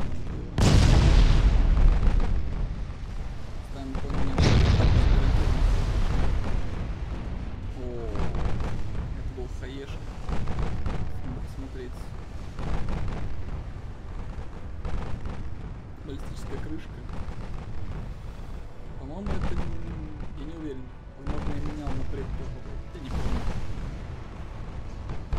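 Heavy booming naval gunfire from the game Ultimate Admiral: Dreadnoughts, several loud blasts with rumbling tails, spaced irregularly under ongoing game noise.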